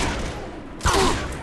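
A single sharp gunshot in Mass Effect 2 lands partway through, a loud broadband crack with a low thump amid steady game noise, followed by a short ringing tail.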